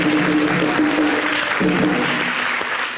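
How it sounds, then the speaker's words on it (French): A room full of people applauds for Magic System and Serge Benoît receiving their YouTube Gold trophy, a dense, steady wash of clapping that stays loud for the whole stretch, with faint tonal sounds underneath. "Ça s'applaudit, franchement."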